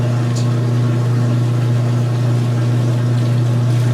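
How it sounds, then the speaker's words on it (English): A washing machine's drain hose pumps water, a steady droning hum with a rushing watery wash on top, close and fairly loud throughout. "I love hearing the drain hose going"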